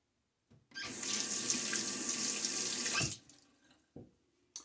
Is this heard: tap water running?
yes